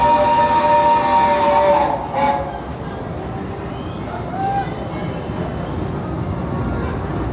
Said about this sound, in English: I took the train from Hogsmeade Station over to King's Cross